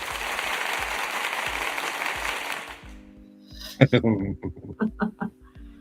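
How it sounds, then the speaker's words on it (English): A few seconds of steady clapping from a group fade out, then voices talk and chuckle close by. "Here's applause."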